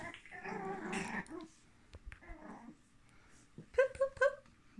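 A chocolate and tan Chihuahua puppy gives a few short, fairly faint whimpers and yips between quiet gaps, with soft voices in the background.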